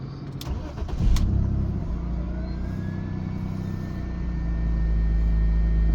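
A 30-year-old BMW with about 230,000 miles cranks and fires up, then runs at a steady, close engine rumble that builds slightly toward the end, with no talking.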